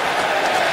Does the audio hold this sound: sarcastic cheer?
yes